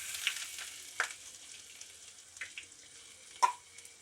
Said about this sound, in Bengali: তেলটা গরম হয়ে গেছে। এবার আমি কুচনো রসুন আর আদা রসুন কুচোটা দিয়ে দেবো এর মধ্যে।